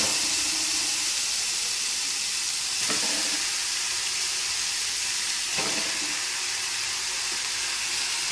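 Chicken pieces fry loudly in a pan with browned onions, giving a dense, constant sizzle and hiss close by, with a couple of short stirring scrapes over it.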